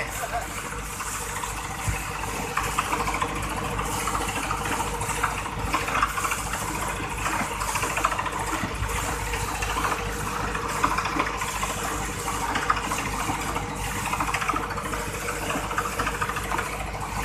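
An engine drives a water pump at a newly drilled 40-metre borehole in a mulberry garden at Ban Khaen in Thailand, droning steadily and evenly at close range throughout.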